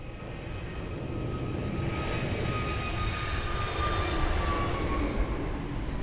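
At Lisbon Airport on runway 02, a jet airliner's engines give a continuous loud roar with a faint whining tone drifting across it, holding steady throughout.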